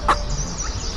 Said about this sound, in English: and caught a wild chicken